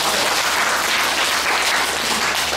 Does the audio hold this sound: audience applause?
yes